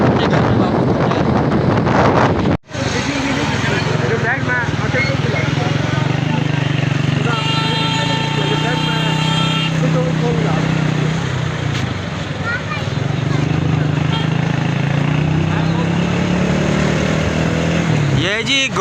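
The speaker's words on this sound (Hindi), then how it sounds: "अभी हम देख लें जी बाइक पर जा रहे हैं" Motorbike ride on the way to a large livestock market in Pakistan, with wind buffeting the microphone and a steady engine drone throughout, under someone talking.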